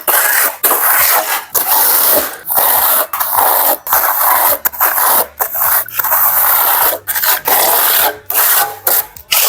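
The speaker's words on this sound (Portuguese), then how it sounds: "se usa a desempenadeira de aço e a espátula e vai aplicar na parede." A steel trowel spreads waterproofing mortar across a wall, making repeated close rough scraping and rubbing strokes in an uneven rhythm, with brief pauses between passes and no voices.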